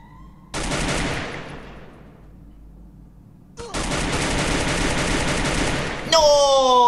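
M14 rifle gunfire in the Free Fire video game: a loud burst of shots that rings out and decays, then after a short gap a second long sustained volley ending in sharp bright tones, with no talk.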